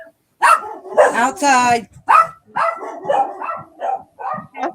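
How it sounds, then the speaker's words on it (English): Two dogs bark loudly and repeatedly in a close, indoor setting, the yaps overlapping with a person speaking. "Both dogs are going off."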